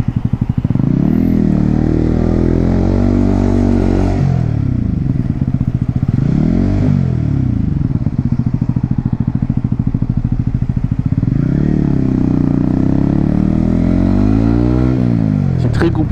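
A motorcycle rides through traffic, its engine loud and close with a steady drone that rises and falls as the rider accelerates and shifts, plus some rattling and wind noise along the road.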